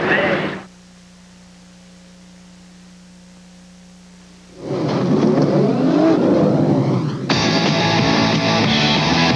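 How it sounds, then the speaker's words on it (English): After a brief burst of noise and a quiet hum, a Barber Saab race car engine suddenly roars up loud and close, screaming past and staying intense at Road America in 1992. "it looks like Julien flashes by to take third."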